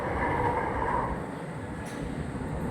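An LRT train rumbles steadily at the new Baclaran Terminal 1 extension, a continuous mid-level rolling roar with a brief high squeal near the end, no talk.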